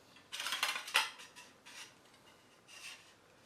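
Half-inch metal pipe slides through a pipe fitting, giving a few faint close metallic scrapes and clinks in short bursts before going quiet, with no talking.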